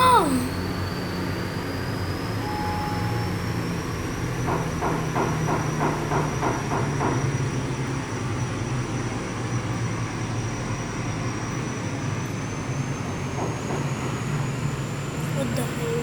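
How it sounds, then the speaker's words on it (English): A train rumbles steadily past for the whole stretch, with a brief burst of rhythmic wheel clatter partway through, a long high whine above it and a low constant roar beneath. "Why the train is going on?"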